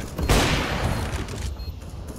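A flashbang grenade goes off in a tactical bomb-planting shooter game, with a single sharp, loud burst followed by a long hissing, ringing decay.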